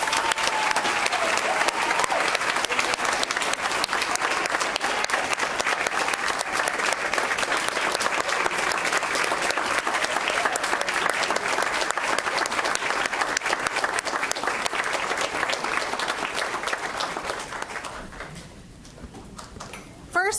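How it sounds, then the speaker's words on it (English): Long, steady round of applause from an audience for students at a public school spotlight event, dense clapping at an even level for most of the time before dying down, with talk near the end. "let's give them all another round of applause."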